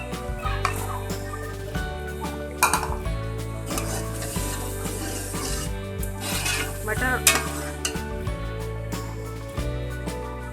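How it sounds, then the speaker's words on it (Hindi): Peas added to masala frying in a pot for matar murgh biryani, with a steady sizzle and occasional stirring scrapes underneath prominent background music. "ये हमारा मसाला बहुत अच्छे से भुन गया है। अब हम इसमें ऐड करेंगे मटर"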